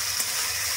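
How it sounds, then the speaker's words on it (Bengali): Spice paste with turmeric and salt frying in oil in a pan, a continuous hissing sizzle heard close up and at an even level, with no stirring strokes or voices standing out. "এবার ভালো করে আরেকটুখানি কষিয়ে নেব।"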